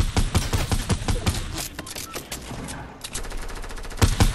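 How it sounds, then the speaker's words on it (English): Rapid bursts of video game gunfire crackle in quick, dense volleys, loud and close, easing off mid-stretch before a fresh burst at the end. "He's trying to shoot you down."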